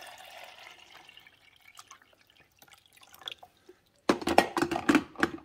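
Quiet rustling and handling noises, then fresh water pours and splashes loudly into the reservoir of an Amazon Basics 5-cup coffee maker in uneven gushes during the last second or so.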